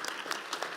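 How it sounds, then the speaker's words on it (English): Brief burst of audience applause at a business forum investor roundtable, steady clapping from a seated crowd filling the short moment, moderately loud with no speech over it. "So a round of applause."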